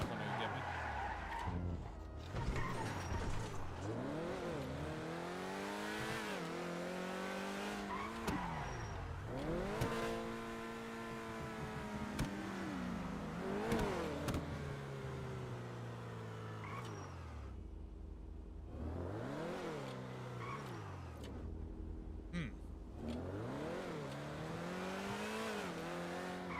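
A car in a role-play driving game revs and races around, engine pitch sweeping up and down repeatedly through gear changes, with tire squeals mixed in, loud and continuous throughout.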